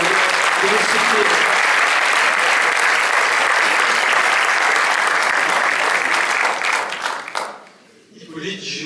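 An audience at a film premiere claps steadily and loudly for several seconds, a dense wash of applause that tapers off near the end as a voice begins to speak.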